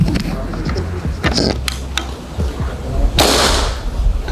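A gejluk sound unit plays a gunshot effect on its second track, a loud bright burst near the end following several sharper clicks and knocks, with a voice speaking over parts of it.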